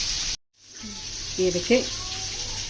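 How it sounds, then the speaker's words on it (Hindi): Coated chicken wings deep frying in hot oil give a steady, bright sizzle that cuts out briefly near the start, then returns with a few soft background sounds over it. "अब इसको फ्राई होने के लिए हम छोड़ देंगे।"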